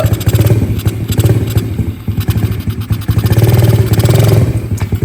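Mini dirt bike bought online, its small engine revving hard up close in quick repeated bursts with rattling and clatter, loud throughout and no clear talk.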